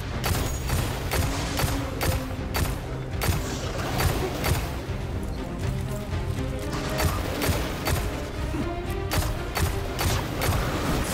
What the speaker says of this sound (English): I feel like this Gatling gun's fucking better